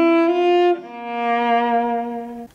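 A cello plays a short phrase from a song, with a bowed note that moves into a second long, sustained tone. It sounds close and full, with no voices over it.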